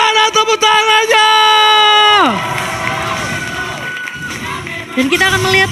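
Crowd at the MPL Arena esports venue for a Mobile Legends match between Aura Fire and RRQ, loud cheering and shouting with sustained tonal arena sounds sweeping downward, then a noisy crowd roar that swells again near the end.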